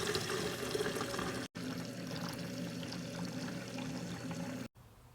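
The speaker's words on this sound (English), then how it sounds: "I'm going to put it in the Chapin, and then I'm going to dilute that with hot water." Hot water pouring into a Chapin pump sprayer to dilute a coil cleaner, a steady close rushing pour that continues for several seconds with two brief breaks.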